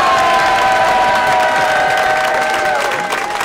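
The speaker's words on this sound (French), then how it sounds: "je vous propose d'applaudir maintenant." Audience at a start-up pitch event applauding and cheering loudly, dense crowd noise with sustained whistles or high-pitched cheers riding over the clapping.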